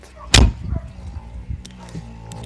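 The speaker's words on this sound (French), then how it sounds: "Refermer la porte." A New Holland T6.175 tractor cab door swings shut with one sharp, close slam, followed by a few faint rattles and clicks as it settles.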